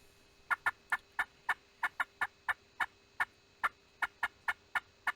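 Friction turkey call worked with a striker in short, abrupt strokes to imitate a turkey. It gives about eighteen sharp, evenly spaced yelps in a brisk steady rhythm, loud and close, with no talking.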